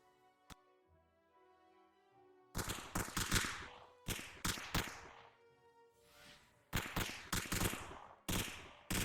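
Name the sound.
gunfire in a VR roleplay game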